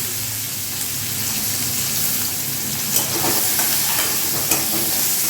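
Chopped onion, black cumin seeds and slit green chillies fry in hot oil in a pan, giving a steady, close crackling sizzle with a few soft stirring knocks and no talking.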